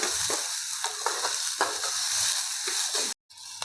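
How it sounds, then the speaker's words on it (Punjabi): Finely chopped onion frying lightly in a pan with cumin and mustard seeds for a yellow moong dal breakfast: a steady, close sizzle with faint stirring scrapes that cuts out briefly near the end. "ਪਿਆਜ਼ ਨੂੰ ਹਲਕਾ ਜਿਹਾ ਭੁੰਨ ਲਿਆ"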